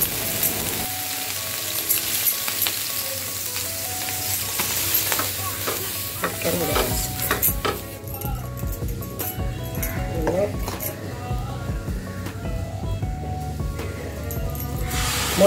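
Dosa batter ladled onto a large hot iron griddle and spread out, a steady sizzling hiss with soft scraping strokes of the ladle, fairly close, with occasional speech over it.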